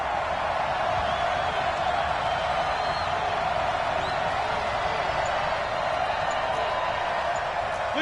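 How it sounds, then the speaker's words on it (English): A football stadium crowd roars steadily at an NFL game between the Raiders and the Eagles as a big third down approaches, a dense, continuous wall of cheering that holds at the same loud level throughout. "the crowd getting into it as we come up on a big 3rd down"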